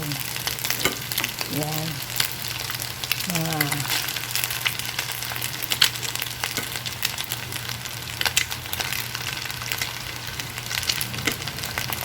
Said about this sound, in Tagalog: Tsaka mo ngayon ilagay yung bagong saing na kanin.